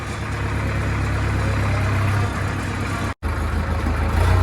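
A tractor loaded with sand runs nearby with a steady low engine drone that shifts pitch partway through and cuts out for a moment before resuming.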